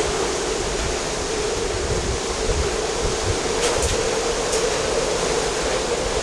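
Rushing floodwater during a typhoon, a loud continuous roar of fast, deep water surging steadily past without pause, with no voices.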